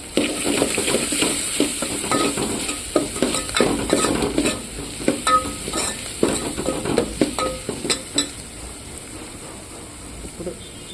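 A spoon stirs a pan of buttermilk curry (majjiga charu) on the stove, with repeated scraping clinks and scrapes in an uneven rhythm over a bright, continuous sizzle, close and fairly loud.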